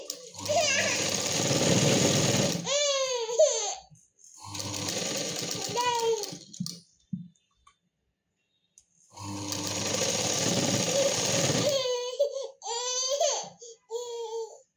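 A sewing machine stitches sleeves onto a readymade dress in three loud, rattling runs separated by short pauses, with a voice and crying heard between and over the runs.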